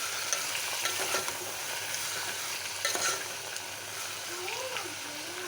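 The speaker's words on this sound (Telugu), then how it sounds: "టమాటా పళ్ళు వేసినాక కలుపుకుందాం" Tomatoes stirred in a pan for tomato chutney, a steady frying sizzle with scraping stir strokes up close and faint voices in the background.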